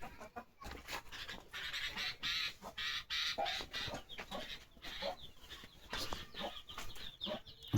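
Chickens on a small farm cluck and call in short repeated bursts, fairly close but faint overall, with no talk over them.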